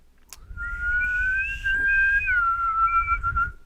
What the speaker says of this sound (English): if you need us, just whistle